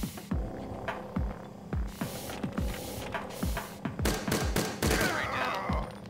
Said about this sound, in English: someone's shooting, but I don't know who they're shooting at